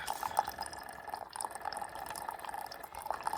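Water is poured into a cup in a light, continuous trickle with small drip-like plinks throughout, faint and close, with no talk.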